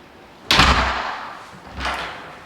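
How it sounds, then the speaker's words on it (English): A door pulled shut by its self-closer swings closed with a solid thump, followed a second later by a second softer knock, close by in a quiet room. "the self-closer, as its name intends, is supposed to close the door when released"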